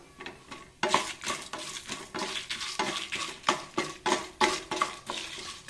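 Chana dal and urad dal fry in a pan, with repeated scraping strokes of a spoon against the metal over a soft, steady sizzle, close and moderately loud.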